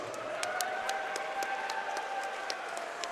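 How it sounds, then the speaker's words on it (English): Sparse, quiet clapping from a crowd at a regional MMA card in Belleville, greeting the co-main event fighters; a few scattered claps rise over a steady background hum. "please put a big round of applause together for both of your co-main event fighters"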